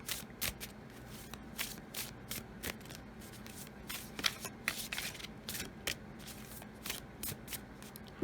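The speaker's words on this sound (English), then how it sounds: "Let's draw a few more oracle cards" Oracle cards being shuffled by hand, close and fairly quiet, in a string of quick riffling bursts that repeat irregularly throughout.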